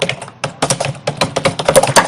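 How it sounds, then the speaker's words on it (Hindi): A keyboard typing sound effect: rapid, irregular clicking keystrokes, close and fairly loud, with brief pauses between bursts and no talk. "मुझे चाहिए कि और अच्छे से आवाज आए कीबोर्ड टाइपिंग की"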